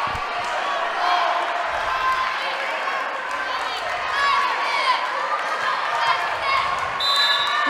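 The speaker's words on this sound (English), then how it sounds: "The crowd here is going nuts." A crowd at a high school volleyball match roars and cheers loudly and continuously, a dense wash of voices with squeaks and thumps from the court mixed in.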